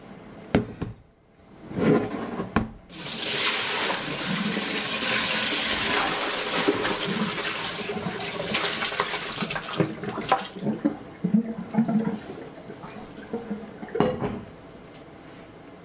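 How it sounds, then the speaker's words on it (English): Water running and splashing steadily for most of the stretch, with clattering and knocking of soup bones being rinsed under running water, close by, no talking. "so I just dumped the bones and I wash it"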